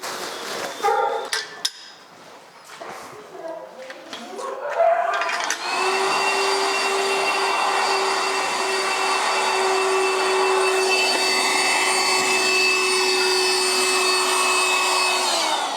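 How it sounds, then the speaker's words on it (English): A vacuum cleaner switches on after some brief knocks and movement, then runs as a loud steady whine with a sustained tonal hum, close by, during dog training. "I'm gonna go grab that vacuum here."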